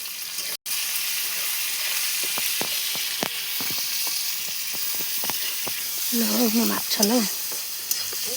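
Cinnamon, bay leaves and onion fry in hot oil in a kadhai, giving a steady close sizzle with a few crackles and stirring, while a brief voice speaks near the end.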